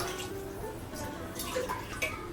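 Water is poured into a pot of Hyderabadi-style mutton biryani, a soft, steady splashing trickle heard under a person talking.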